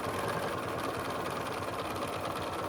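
A sewing machine stitches binding onto the front of a scrappy trip-around-the-world quilt, a steady, fast, even whir running close and unbroken throughout.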